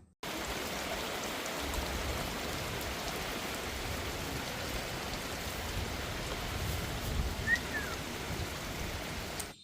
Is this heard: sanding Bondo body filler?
no